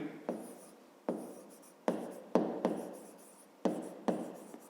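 Pen writing on paper for a math exercise, a series of distinct scratchy strokes about every half second to second, close and quiet, with no talking.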